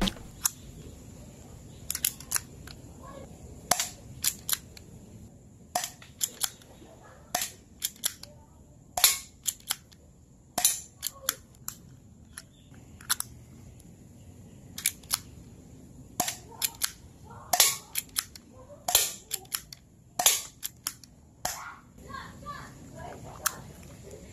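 A Mauser C96 metal alloy pellet toy gun fires repeatedly, sharp snapping cracks at irregular intervals over a quiet indoor background, with soft talk faintly underneath.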